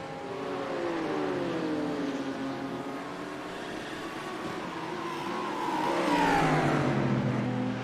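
A Lamborghini Huracan in a sim racing game at Watkins Glen, its engine note rising and falling through downshifts and revs, loud and continuous with a sharper climb near the end.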